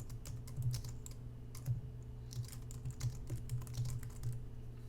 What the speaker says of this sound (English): you can start typing your text